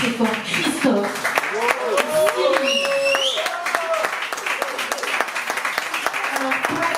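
A concert crowd applauds at La Zonmé in Nice, a steady wash of clapping that runs the whole time beneath voices and cheering.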